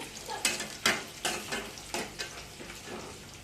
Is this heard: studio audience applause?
no